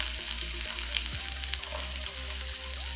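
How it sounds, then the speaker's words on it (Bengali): Chopped onions fry in oil with whole cumin for a Bengali-style chicken tadka, a steady soft sizzle with a few faint stirring scrapes. "পেঁয়াজ কুচানো দিয়ে আমি ভালোভাবে পেঁয়াজটাকে ফ্রাই করে নেব"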